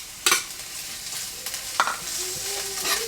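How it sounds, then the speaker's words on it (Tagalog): Mixed vegetables stir-frying in a tablespoon of vegetable oil, a close, steady sizzle broken by a few sharp spatula scrapes and clacks against the pan. "Put all the veggies and just stir fry it."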